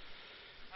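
A sheep in the video game Minecraft gives a short, faint bleat with a flat digital tone, very brief and alone.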